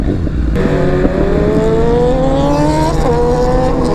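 A high-revving Yamaha R6 sport motorcycle engine climbs steadily in pitch as it accelerates past, loud and fairly close, over steady wind and road noise.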